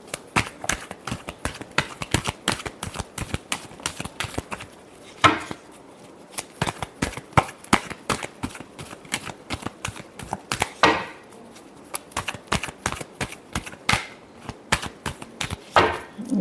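Tarot cards being shuffled by hand in a series of rapid riffling and tapping bursts, close and crisp, with short pauses between runs and no voice.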